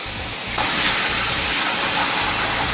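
Warm water gushes from a tap over rice being rinsed for lamb biryani, a loud steady hissing spray that starts abruptly and runs continuously with faint low knocks beneath.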